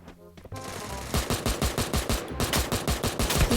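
Rapid automatic gunfire in a shooting video game, loud bursts of evenly spaced shots rattling on for several seconds after a brief lead-in, with no talk over it.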